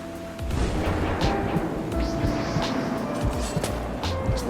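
Heavy weapon strikes smashing the ground in the Arcane Odyssey game, a run of loud rumbling impacts and crumbling thuds repeating over several seconds with a steady tone beneath.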